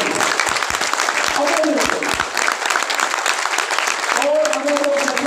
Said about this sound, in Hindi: तो जोरदार तालियां आप अपने लिए बजाइए